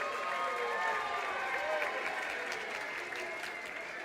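Crowd applause fills a packed arena at a lucha libre wrestling show in Detroit, a steady roar of clapping and cheering that holds throughout, loud and continuous.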